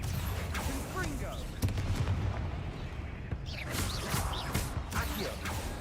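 The Confringo spell goes off in Hogwarts Legacy with a loud burst of crackling blasts and effects. Busy game noise fills the background and voices speak over it.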